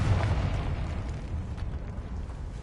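Confringo fire-blast spell exploding in Hogwarts Legacy, a loud, dense, rumbling boom with crackling debris that rolls on steadily.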